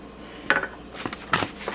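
A whisk clicks and scrapes against a bowl in a few short, quick strokes while mixing garlic powder, pepper and seasonings for scalloped potatoes, close and moderately loud.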